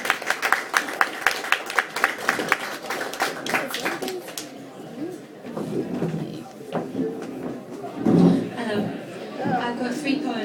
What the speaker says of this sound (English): Okay, everyone clap Sian when she comes to the stage.